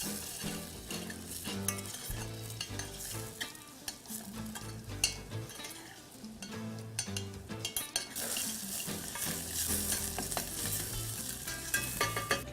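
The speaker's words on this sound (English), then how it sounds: "We're going to just lightly scrape that bottom of that pot up." A spoon scrapes the bottom of a pot of mushroom bisque in a run of uneven, close strokes over a soft sizzle and bubbling. No one speaks.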